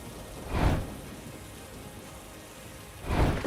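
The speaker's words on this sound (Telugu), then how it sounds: "అప్పుడు వర్షం వచ్చింది. గొప్ప ప్రచండ వర్షము 40 పగళ్లు మరియు రాత్రులు భూమిని" Heavy rain pours steadily in an animated telling of Noah's great flood, with two deep rumbling thunder swells, one early and one near the end, over a constant loud hiss.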